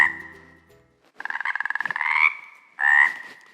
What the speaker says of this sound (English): I think it's a frog.